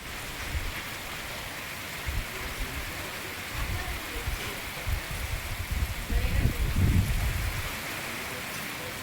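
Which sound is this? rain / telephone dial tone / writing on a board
rain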